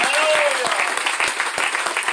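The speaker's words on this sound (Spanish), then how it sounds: "Un fuerte aplauso al Señor, aleluya." Church congregation applause during a sermon, a loud, continuous wash of many hands clapping together, with a faint tone ringing out briefly near the start.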